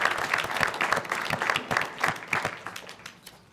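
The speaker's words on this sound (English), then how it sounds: "Can we clap for making it this morning?" An audience claps together, a dense patter of many hands that stays steady and then tapers off over a few seconds.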